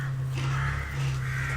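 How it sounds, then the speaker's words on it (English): Northern crows in a fantasy role-playing game setting give a short burst of loud, harsh caws that sit close and repeat in quick succession over a constant low hum. "The rest of the crows fly into the air, circling around, croaking madly."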